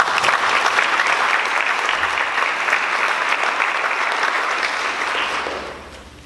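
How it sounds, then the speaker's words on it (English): An audience at a Chattahoochee High School student leadership candidate debate applauds the students, giving a dense, steady round of clapping that holds for several seconds and then fades out. "Can I get another round of applause for these amazing students?"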